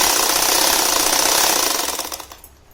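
A sewing machine stitches a purse belt in a fast, rapid rattling run that holds steady, then slows and fades to a stop near the end, close up with no talking.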